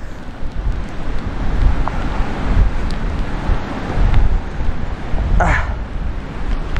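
Strong, cold wind buffeting the microphone on the summit of Mount Kitanglad, the fourth highest peak in the Philippines, a loud continuous roar rising and falling in gusts, with a brief faint higher sound near the end.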